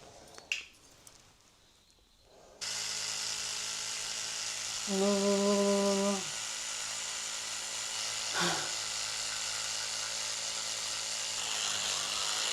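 An electric toothbrush runs steadily and close by, a continuous buzzing hum that starts abruptly after a few quiet seconds, shifts briefly into a higher-pitched drone as it presses against teeth, and carries on to the end.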